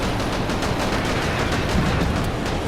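Small land rocket weapon firing in the video game Junker Bot, a dense continuous crackle of rapid shots and blasts that stays steady and loud throughout.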